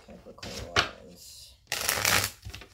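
A large tarot deck being shuffled by hand, two bursts of riffling card noise close to the microphone with a short pause between them.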